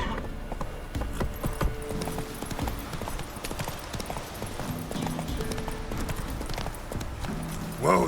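Roach the horse galloping in The Witcher 3, a fast, steady clip-clop of hooves close by with a brief louder burst near the end.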